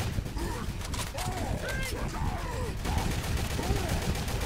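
Rapid, continuous gunfire from several players in Left 4 Dead 2, dense and steady across the whole moment, with voices talking over the shooting.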